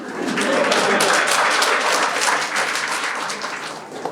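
A stand-up comedy audience breaks into loud, dense applause that holds steady for several seconds, then thins slightly near the end.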